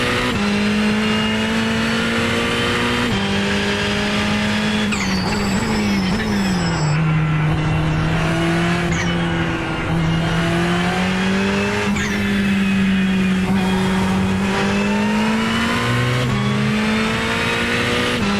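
A race car in the iRacing sim lapping a track, its engine a loud, continuous drone that rises and falls through shifts and revs, with brief squeals along the way.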